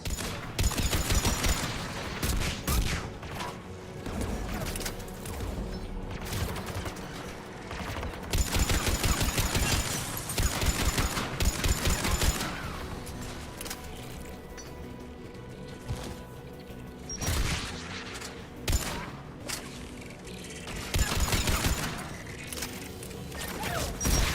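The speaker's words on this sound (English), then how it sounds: "AA guns ahead of us" Anti-aircraft guns fire in Mass Effect 3 with sustained bursts of rapid fusillade, booms and crashes coming in loud waves over the game's din, punctuated by quieter lulls.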